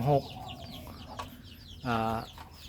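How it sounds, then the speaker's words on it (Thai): A young hen in a backyard chicken coop gives two short clucks, one at the start and another near the end, with faint rustling and background noise between. "ตัวนี้เป็นไก่สาวนะครับ"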